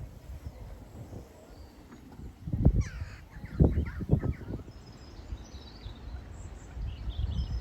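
A crow caws several times at a moderate distance along a countryside walking trail beside a small stream, its harsh calls standing over a soft outdoor background with a few thumps and footsteps.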